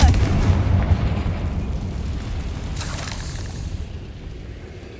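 A Confringo fire spell from Hogwarts Legacy bursts with a loud, close boom, and its deep rumble slowly dies away over several seconds.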